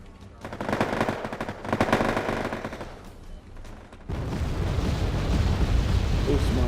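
Bombing runs and machine-gun fire in the real-time strategy game Wargame: AirLand Battle, loud rattling bursts of gunfire for the first four seconds, then a continuous roar of explosions and rumbling fire; a voice is faintly heard under the battle.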